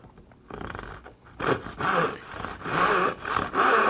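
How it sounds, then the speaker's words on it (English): A hand saw rasps through wood cutting dovetails, in a series of rhythmic back-and-forth strokes, starting light and growing louder and steadier. "when you're sawing, you want to almost not have any pressure on the saw handle at all"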